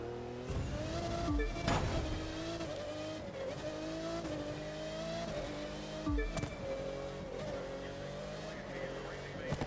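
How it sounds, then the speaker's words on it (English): A racing car in The Crew 2 city championship drones at a steady engine pitch with repeated downshifts and braking dips before turns, the revs rising and falling in a continuous loop, close and loud. "I have to slow this car down so much before each turn to not crash. I have to really hit the brakes."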